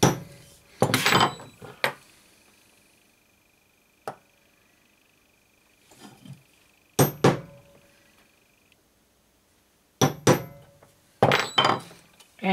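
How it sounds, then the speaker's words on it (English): A hammer strikes a centre punch to mark metal maker's plates in a home workshop, giving sharp, close, ringing taps in scattered single hits and short pairs with quiet gaps between. "find a hammer and a centre punch and mark these"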